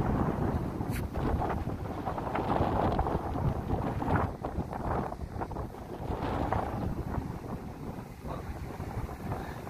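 Strong wind beside the sea at Al Jubail, Saudi Arabia, buffets the microphone in a loud, continuous rumbling roar for nearly ten seconds, with no clear voices.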